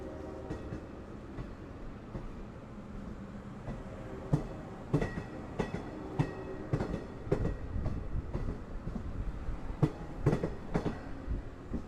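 Long Island Rail Road train 2794 passing at Speonk station, with cab car 5002 trailing: a low, steady rumble under a rhythmic clickety-clack of wheels over rail joints, growing louder and sharper as the cars roll by close.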